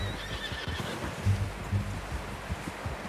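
Horse whinnying in the Red Dead Redemption 2 video game, a single drawn-out neigh with light hoof clatter beneath, heard at moderate distance over ambient game sound.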